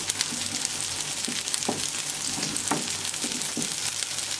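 Food frying in a small pan for a breakfast recipe, a steady close hiss and crackle of hot oil with occasional soft stirring or shifting sounds.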